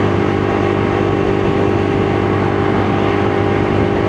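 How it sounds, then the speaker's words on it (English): A Lexmoto LXR E55 125cc motorcycle engine pulls strongly from low speed, a loud, close, continuous buzzing drone holding steady with a faint whine and no voices. "Now the new spec engine obviously feels a little more torquey from the get-go."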